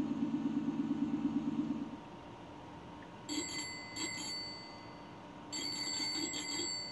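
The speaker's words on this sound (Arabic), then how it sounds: "جرس سيكل" A bicycle-bell sound effect played through the front-mounted exterior speaker of a 2024 all-electric Zeekr X rings in two bright bursts of repeated chimes, following a low rumble and a brief pulsing tone.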